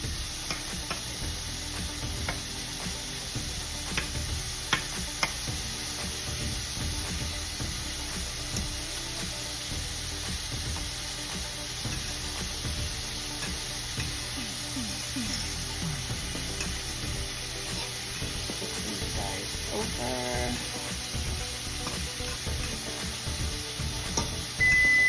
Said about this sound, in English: I got a little bit of butter in my skillet, and I'm about to cook these real quick.